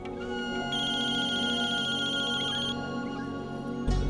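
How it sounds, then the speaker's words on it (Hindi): A phone ringtone plays a steady repeating electronic ring, moderately loud over a room background, cutting off shortly before the end. "फोन आ रहा है यार"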